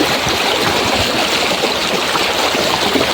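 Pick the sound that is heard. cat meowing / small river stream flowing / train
small river stream flowing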